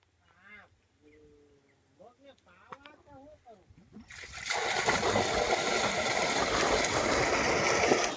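Water pumped by a motor pours out onto a vegetable field on a farm, a loud, continuous, rushing splash that starts suddenly midway after a stretch of a voice talking and some faint bird-like calls.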